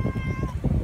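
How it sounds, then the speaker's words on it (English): A stray cat gives a short, close meow over low background rumble, a single brief call with no other voices. "you're a dirty kitty"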